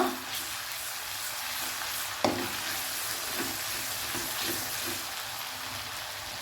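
Roughly crushed garlic and green chillies frying in a pan, a constant dense sizzle close by with a sharp clack of a utensil early on and a few soft stirring scrapes, with no voices.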